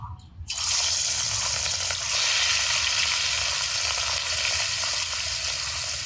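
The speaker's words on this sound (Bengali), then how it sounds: "পেটির 4 পিস আগে ভাজি, গাদা 3 পিস পরে ভাজি।" Rohu fish pieces drop into hot oil in a wok, and a loud sizzle breaks out and holds steady and close for several seconds.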